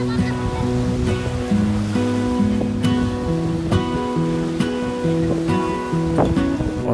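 Ocean waves wash onto the sandy beach at India's southernmost tip where three oceans meet, a steady rushing surf close by, with people talking over it.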